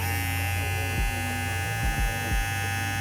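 Babyliss FX One hair clippers in green charcoal pastel run with a steady, smooth electric hum, close and moderately loud, with a few soft low thumps as they are handled.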